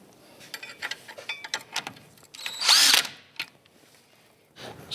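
A power tool gives one loud, short whirring burst as it snugs down the nut on the pinch bolt of a 1995-2001 Ford Explorer front CV axle, with light metallic clinks of handled parts before and after.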